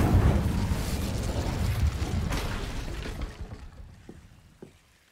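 A fire spell cast in Hogwarts Legacy erupts in a loud whooshing burst of flame that roars, then tapers off over several seconds, ending with a couple of faint pops.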